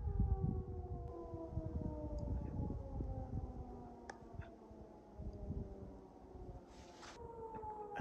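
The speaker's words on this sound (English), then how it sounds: "I don't know what that siren is." A long, wailing outdoor warning siren, heard on a mine hike in the mountains, rises and falls steadily in the distance, carrying over a low rumble of background noise throughout.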